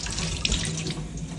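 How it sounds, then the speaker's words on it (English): Tap water runs steadily into a washbasin while hands are wetted during handwashing before putting on PPE for personal care, a continuous close rush of flow throughout. "I have to first of all wet my hand."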